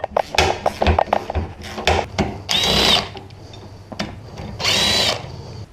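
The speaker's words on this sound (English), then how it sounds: "Going to break these loose with a ratchet first, just to make sure nothing is stuck or broken." A ratchet loosening tailgate hinge bolts on a 2004 Chevrolet Silverado 2500HD: close, gritty mechanical clicking in short uneven bursts, with two longer whirring runs.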